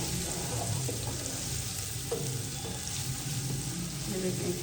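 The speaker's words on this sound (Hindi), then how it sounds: "ये देखिए इसको बस 1 मिनट ही हम ऐसे भूनेंगे" Garlic frying alongside browned onions in a pan for chana pulao, a steady, close sizzle with soft hiss and occasional faint stirring clicks throughout.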